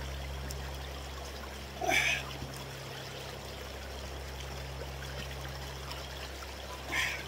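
Spring water from a mountain source pours in a steady trickling stream, close and constant, with a couple of brief louder splashes over a low background hum.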